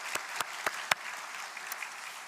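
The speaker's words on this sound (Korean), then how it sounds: "다시 한번 박수로 격려하면 좋겠습니다" A Sunday church congregation gives scattered applause, a handful of separate, fairly faint claps spaced out in a quiet hall, the last one trailing off after a pause.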